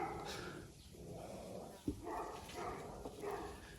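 Neighbours' dogs barking outdoors in a garden, a few distant, faint barks scattered over steady background ambience, with one sharper bark standing out.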